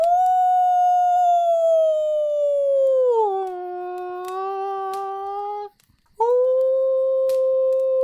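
A human voice imitates a long, high-pitched howl that slides gradually downward. It is loud and close, breaks off briefly near the end, then resumes.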